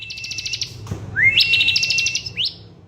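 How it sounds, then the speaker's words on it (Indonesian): A Bar-winged prinia sings close by, giving bright, rapid high trills in two bursts separated by a brief pause, with a rising whistled note leading into the second burst. "1. Perenjak Jawa."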